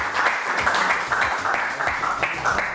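An audience applauds for an author on a French variety show, a steady wash of clapping that holds at an even level throughout with no voices over it.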